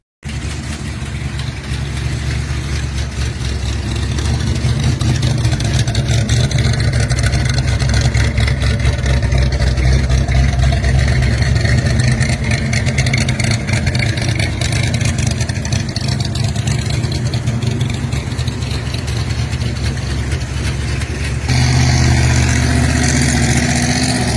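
A 1963 Ford Galaxie 500 XL Fastback engine runs steadily up close, a loud continuous low rumble with a slight change in tone near the end, no voices over it.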